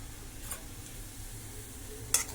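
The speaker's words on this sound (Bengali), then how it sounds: "দিয়ে একটু নাড়াচাড়া করতে থাকবো" Garlic, chili, salt and turmeric frying in a pan under a steady soft sizzle, with a couple of brief scrapes of a stirring spoon, close and fairly quiet, no voices.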